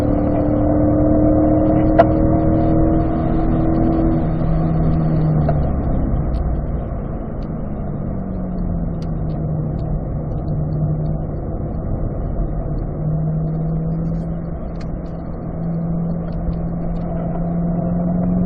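A car lapping a race track in fourth gear, its engine holding a steady drone with slowly shifting pitch throughout, loud and continuous with no talk.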